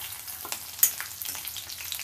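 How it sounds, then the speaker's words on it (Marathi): Crushed garlic and cut green chillies frying in a pan, a steady close sizzle with small crackles and light stirring clicks and no talking. "लसूण थोडासा परतून झाला की त्याच्यात घालूया 2 कट केलेल्या मिरच्या"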